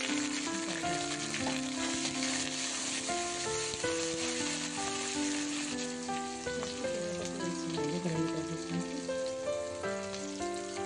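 Chopped green chillies and onions sizzle steadily in hot oil in a pan for rice upma, a continuous crackling hiss with background music playing over it.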